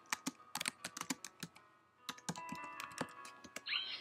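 Fingers typing on a computer keyboard to enter a chat message, a close, quick run of crisp key clicks in uneven bursts, heard alone.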